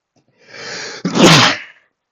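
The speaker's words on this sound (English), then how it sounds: "Oh, I think it was my sneeze." A single close, loud human sneeze: a brief inhaled build-up, a sharp catch, then a forceful burst that fades within about a second, with no talking around it.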